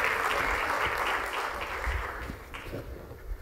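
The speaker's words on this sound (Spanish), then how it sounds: "Carlos Magro Mazo, con el aplauso de todos ustedes, si son tan amables." Audience applause welcoming a speaker at an education symposium session, a full burst of steady clapping that slowly thins toward the end.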